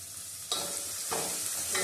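Onions, green chillies and curry leaves hit hot oil in a pan for bendakaya pulusu, bursting into a loud sizzle with stirring swishes and renewed hissing surges, close and without voices.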